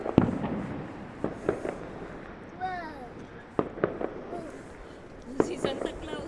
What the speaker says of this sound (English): Thought it was a firework.